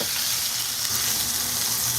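Lamb burgers sizzle loudly and steadily in a frying pan as they are flipped, a dense continuous hiss with no talking.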